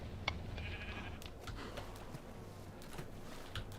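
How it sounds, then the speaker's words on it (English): Sheep in Minecraft, including a rare natural pink sheep, let out short bleats at intervals against a faint background of game sounds. "I brought sheep over, including the sacred pink sheep."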